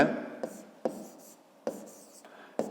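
Pen or pencil writing on paper during a fifth-grade maths exercise, a few short scratchy strokes separated by sharp taps of the tip, close and moderately loud, with no talking.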